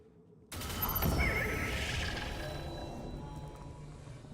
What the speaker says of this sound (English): The celestial horse.